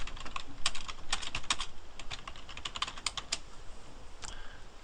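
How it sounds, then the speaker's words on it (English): Fingers type on a computer keyboard in quick, uneven bursts of crisp, close key clicks with short pauses between them and no voices. "To add a thank you message, simply type it in the field here."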